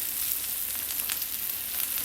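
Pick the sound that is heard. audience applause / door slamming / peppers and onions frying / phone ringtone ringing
peppers and onions frying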